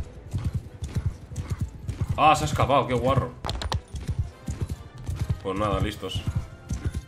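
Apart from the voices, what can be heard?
horse galloping in Mount & Blade II Bannerlord video game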